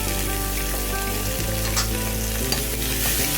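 Chopped pumpkin leaves stir-fried for a Kerala thoran, giving a steady close sizzle with scraping stirs and a few sharp utensil knocks against the pan, no voices.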